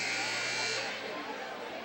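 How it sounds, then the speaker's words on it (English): A buzzer sounds at a high school varsity boys basketball game in a gym, a loud sustained electronic tone for under a second that cuts off, leaving crowd noise beneath it. "And there's the buzzer."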